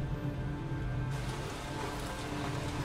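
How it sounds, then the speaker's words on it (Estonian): Steady rain pours in the video game Heavy Rain, a dense, continuous hiss that swells abruptly louder partway through as the scene moves outdoors into the downpour, with no speech. "Nüüd me jõuame välja vihma kätte."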